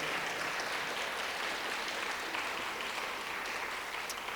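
Parents in a school audience give a steady, dense round of applause for a kindergarten class at an elementary school celebration, even and sustained throughout with no talking.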